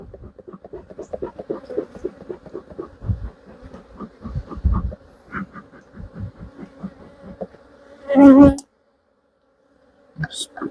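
Honeybees buzzing at an opened hive during a nuc inspection, a close, continuous hum with short rhythmic tapping and rustling over it, then a louder burst before the sound cuts out.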